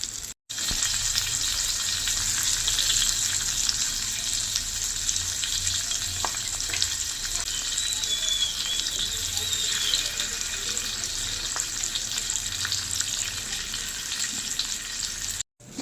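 Fish from a paddy field, coated in simple home spices, frying in hot oil at home, giving a steady, close crackling sizzle that runs continuously with faint occasional clinks.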